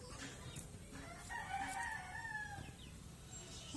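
A rooster crows loudly nearby while backyard chickens, including a laying Chinese hen, cluck softly in the background.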